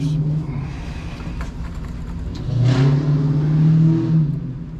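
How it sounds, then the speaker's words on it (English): A nearby Ford Mustang engine revs with a deep rumbling growl that swells louder midway and then holds, heard from a roadside truck repair spot in Wilmington, Delaware, with no talk over it. "Somebody must have got a new Mustang around here."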